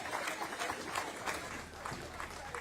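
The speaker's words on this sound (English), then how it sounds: "Anna Henderson takes the applause from the crowd." Crowd applause at a cycling medal ceremony during the British National Road Championships, a steady wash of clapping from spectators that holds for the whole stretch, with a voice speaking faintly over it.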